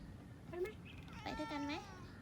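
A cat meows a couple of times outdoors while visitors tour an ancient city park by golf cart, the meows short and faint under nearby quiet talk.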